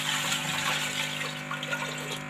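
Water pours steadily into a cooking pot holding cinnamon, black cardamom and meat for kabuli pulao, a continuous close gushing splash with no talk.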